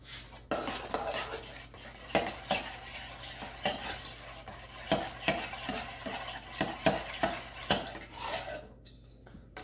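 Low-carb coleslaw being mixed in a bowl, with repeated rhythmic clacks and scrapes of a utensil against the dish, fairly quiet and close, no talking.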